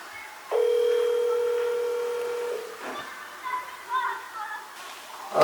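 A telephone is dialed to call dad: a long steady dial tone, then a series of short dialing beeps in an uneven rhythm, heard fairly close in a quiet room.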